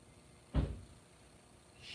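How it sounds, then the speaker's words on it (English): A visitor entering through a door, a single soft thump of the door opening, fairly faint against quiet room noise, with a faint higher hiss near the end. "Someone's going to come in the door."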